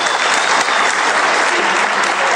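An audience applauds loudly at a 1998 show in Kingsport, Tennessee, a dense, continuous wash of clapping that holds steady throughout.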